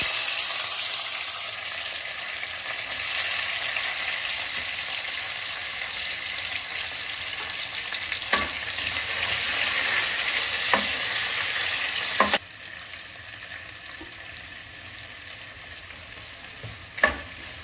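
Carrot, tomato and onion fry in a pan for veg manchurian gravy, giving a steady, close sizzle with occasional clacks of a utensil stirring, and the hiss drops lower near the end.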